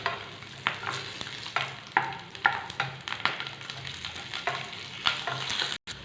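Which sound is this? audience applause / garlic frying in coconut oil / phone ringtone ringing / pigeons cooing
garlic frying in coconut oil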